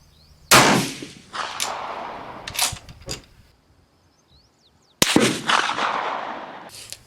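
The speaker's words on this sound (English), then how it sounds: "I'm going to shoot at the 2 red dots underneath the center bullseye." Two sharp rifle shots fired at a paper target with 7.5x55 Swiss cartridges, loud and close, each a hard crack followed by a long decaying echo tail, spaced about four and a half seconds apart with no talk.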